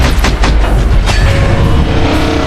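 A satellite blows apart in space as a cinematic sound effect: one loud, heavy boom followed by a dense rumble that holds its full volume for the whole stretch, with no voices.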